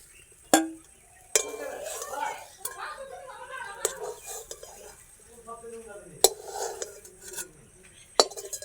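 Cooked semolina stirred in a pan, with irregular metal spoon knocks and scrapes against the pan sides while a person talks over it.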